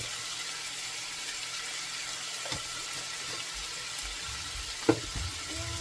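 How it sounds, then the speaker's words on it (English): Pumpkin with ground jeera, black pepper and salt fries in hot oil, making a steady, even sizzle close by, broken by a couple of soft knocks from a utensil against the pot. "I want the jeera and everything to fry inside of the pumpkin"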